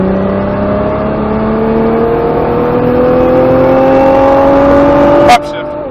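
A race car pulls hard down a track straight, its engine note climbing steadily and loudly before a sharp break at the upshift drops the pitch, while an instructor's voice speaks over the roar.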